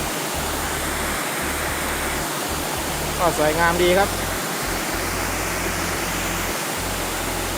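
Steady roar of a strong, full-flowing waterfall at Khlong Yot Nam in Nakhon Si Thammarat, continuous broadband rushing water close by, with someone briefly speaking over it partway through.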